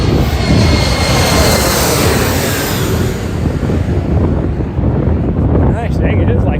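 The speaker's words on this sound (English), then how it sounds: "it is like just constant planes landing in the last half hour or 42 minutes" Airplane coming in to land near an outdoor spot during a Sunday morning run, a loud, steady broadband roar that fills the whole stretch, mixed with wind buffeting the microphone.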